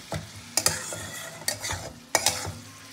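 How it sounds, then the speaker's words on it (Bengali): Tender young greens cooking in a pan are stirred with a utensil, three or four sharp scraping bursts rising over a low, continuous sizzle, close and fairly quiet. "তো আবারও আমি নাড়াচাড়া করে আবারও আমি 2 মিনিটের জন্য ঢাকা দিয়ে দেবো।"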